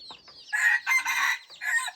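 Chickens clucking on a farm with a rooster crowing, short close calls in several bursts, bright and fairly loud against otherwise quiet surroundings.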